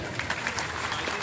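Audience applause at a mimicry performance during a fair, a dense burst of clapping from a crowd heard steadily for about a second.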